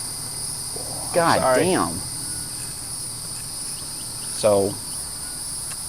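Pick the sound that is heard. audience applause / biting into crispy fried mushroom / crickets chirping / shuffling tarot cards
crickets chirping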